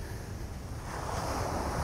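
Sea waves wash steadily onto a rocky shore covered in algae, a continuous broadband roar mixed with wind buffeting the microphone, with no voices.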